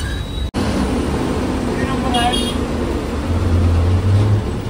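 An MSRTC ST bus drives beneath a bridge at Dadar in Mumbai. A continuous engine and road rumble fills the scene, swelling slightly toward the end, with a voice speaking over it.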